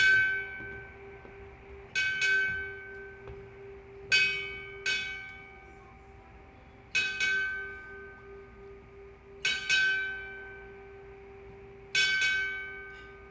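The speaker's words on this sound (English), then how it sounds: "Bell ringer, strike 6 bells." A ceremonial ship's bell at a Navy chief petty officer pinning ceremony rings six clear strikes in three evenly spaced pairs, each ring sustaining and fading in a quiet hall.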